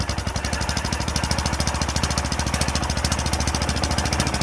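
A Suffolk petrol engine runs aboard a 5 inch gauge petrol-electric model locomotive, chugging loud and close in a fast, even, pulsing rhythm throughout.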